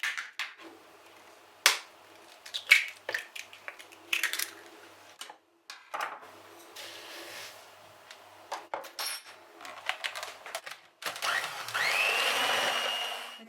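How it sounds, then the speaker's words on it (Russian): An electric mixer whips eggs with sugar into foam for a carrot Easter kulich batter. Clattering kitchen knocks and bursts come first, then a steady, close whirring hum fills the last few seconds. "Будем взбивать яйца с сахаром до пышной пены при помощи миксера."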